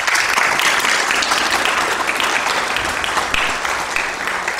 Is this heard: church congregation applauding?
yes